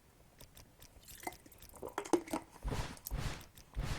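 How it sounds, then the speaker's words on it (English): A person sips and gulps water close to the microphone, soft wet swallows and small clicks in a quiet room, growing into louder gulps toward the end. "Sorry if you hear me drinking my water."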